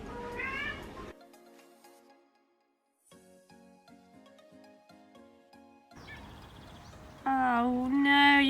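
A cat meows loudly and repeatedly at close range, with rising, drawn-out cries and short pauses between them; a brief stretch of musical background fills one gap.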